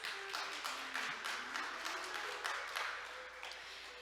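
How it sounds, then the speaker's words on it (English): Audience applause at a maritime conference, a steady round of clapping from a sizable crowd lasting a few seconds, moderately distant in a hall. "Let's give Mr. Kim another big round of applause."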